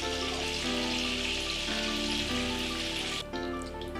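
Chicken pieces fry in hot oil, a continuous close crackling sizzle under a steady tonal hum, dropping away abruptly near the end.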